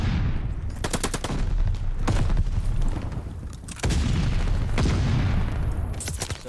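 Rapid automatic gunfire in an esports Call of Duty-style hardpoint match, with dense overlapping bursts and sharp shots repeating steadily across the whole stretch, loud and close with no talk.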